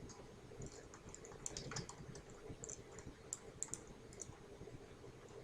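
Keys tapped on a computer keyboard in quick, irregular bursts of light clicks, faint and close, with no voices.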